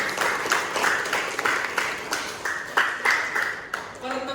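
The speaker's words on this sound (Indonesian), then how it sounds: "Tepuk tangan yang meriah buat teman-teman." Audience clapping for participants at a teacher training session, a burst of applause mixed with voices and rhythmic claps, moderately loud and fairly close.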